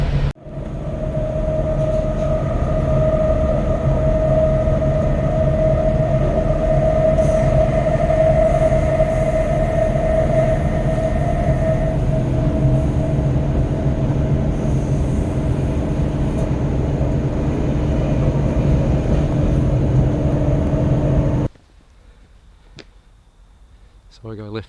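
A train on the Blue Mountains line runs steadily with a loud, close rumble and a droning tonal hum. Voices are heard over it, and the noise cuts off abruptly near the end, leaving quiet.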